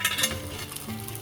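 Fish frying in a pan over the lowest heat gives a steady close sizzle and crackle, with faint stirring and a light scrape of utensils now and then.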